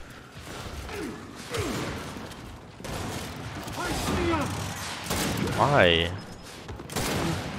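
Gunfire in the video game Gears 5 during a free-for-all match: bursts of shots and mechanical clatter with booms and zipping effects at mid loudness, a voice briefly speaking over the game sound.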